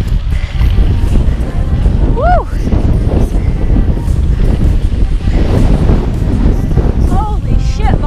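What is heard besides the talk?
strong wind on a mountain top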